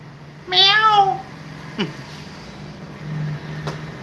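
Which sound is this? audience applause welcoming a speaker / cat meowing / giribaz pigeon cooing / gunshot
cat meowing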